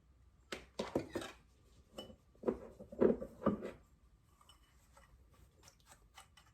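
Garlic salt and black pepper seasoning being mixed in a bowl, with a handful of light clinks and scraping taps in short irregular bursts, close and fairly quiet, fading to sparse ticks.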